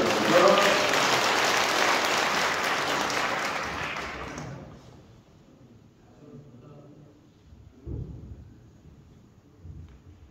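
Thick, loud applause from a church concert audience at Suji Cathedral, sustained for several seconds, then tapering quickly to near silence with a few faint stray sounds afterward.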